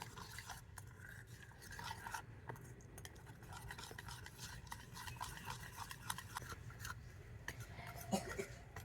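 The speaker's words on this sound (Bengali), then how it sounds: "টক দই আর সুজিটা কিন্তু খুব ভালো করে ফেটিয়ে নিয়েছি" Sour yogurt and semolina batter being beaten in a bowl, a quiet, steady run of rapid wet scraping and clinking strokes lasting several seconds, close up with no speech.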